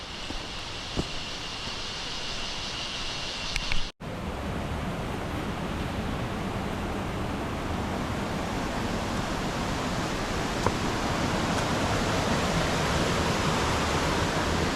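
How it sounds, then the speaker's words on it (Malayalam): A steady rushing of flowing water, a stream tumbling over rocks, continuous and close, with a brief dropout partway through. "ഈ അരുവിയുടെ കളകള ശബ്ദം ഇരമ്പൽ എപ്പോഴും ഉണ്ട്"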